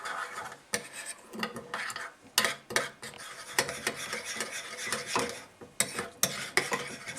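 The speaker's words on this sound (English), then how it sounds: "Just give this a stir." Spoon scraping and clinking against a bowl while stirring yeast, sugar and warm water for homemade bread, in irregular bursts of rubbing and tapping.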